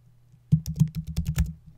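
Computer keyboard typing: a quick burst of about ten close, crisp key clicks over under a second and a half, with a faint hum underneath.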